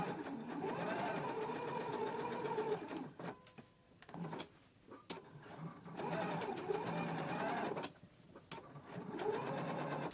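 A sewing machine basting lining to fabric runs in three long bursts of rapid, even stitching, broken by short pauses with clicks and fabric handling, close and clear with no talk.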